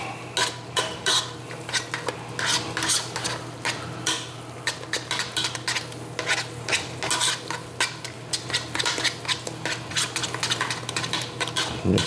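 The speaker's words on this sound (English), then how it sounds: "Mix that up till it's nice and smooth." Sweet potato mash is stirred in a pot with a utensil, giving a steady run of scraping, clacking strokes against the pot, close and fairly loud, with no talking.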